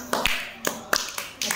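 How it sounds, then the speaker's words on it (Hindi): Children in a classroom clap their hands during a Hindi alphabet activity, a handful of sharp, separate claps in an irregular rhythm, close and moderately loud. "ताली बजाओ भी।"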